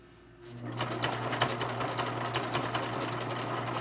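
A sewing machine starts up and runs a quarter-inch seam on a fabric face mask, a close, steady rapid clatter of stitching after a brief quiet moment.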